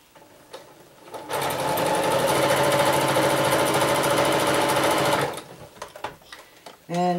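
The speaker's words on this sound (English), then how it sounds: "let me just sew this up really quick" A sewing machine runs steadily for about four seconds while stitching quilting fabric for a machine cover, with a sharp rapid mechanical buzz at close range, bracketed by brief handling clicks before and after.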